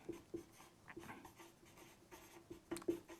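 Chalk or marker writing on a board during a physics lecture on electric fields, faint taps and short strokes in a steady scratchy rhythm, alone with no talk and a low room hum.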